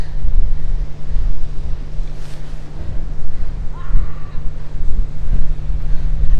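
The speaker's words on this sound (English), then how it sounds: "The wind is just picking up and coming literally right across the bay over to Palma here" Strong wind across the bay at Santa Ponsa, Mallorca, buffets the microphone with a constant low roar, and faint water and distant noises come through underneath.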